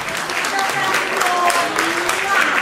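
A live concert audience claps loudly and continuously, scattered whistles and shouts rising above the steady applause.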